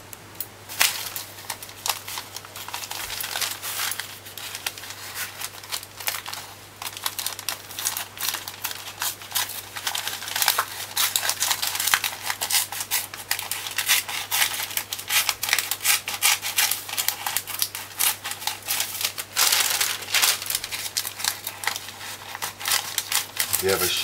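Scissors cut through paper in a kitchen while baking a Jamaican Christmas cake, producing a dense run of crisp snipping and rustling that continues steadily for many seconds under a low background hum.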